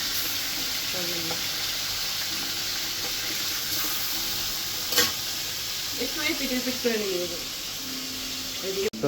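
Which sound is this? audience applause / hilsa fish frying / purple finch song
hilsa fish frying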